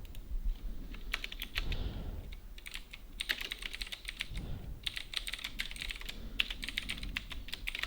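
Fingers typing code on a computer keyboard, with bursts of rapid, close key clicks separated by short pauses, clear and alone.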